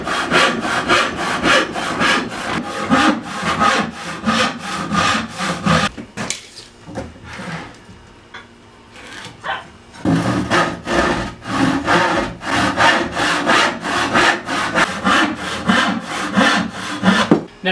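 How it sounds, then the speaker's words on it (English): Hand sawing of a poplar board for a chisel rack: steady rhythmic rasping strokes, loud and close, break off for about four seconds midway and then resume at the same pace, with no talk. "Today we're going to be making a chisel rack out of some poplar. We're going to be cutting both sides at 11 inches."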